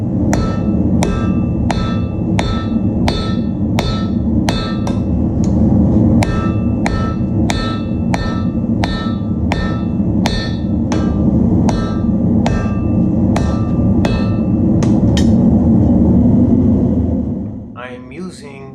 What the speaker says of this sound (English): So I cut a short piece and I forged it to shape